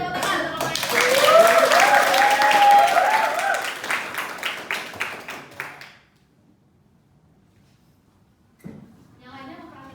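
Students in a classroom clap for a presenting group, a lively burst that thins into scattered claps and stops, followed by a pause and then a voice speaking.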